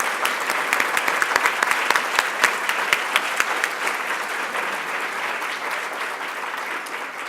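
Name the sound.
audience applauding award nominees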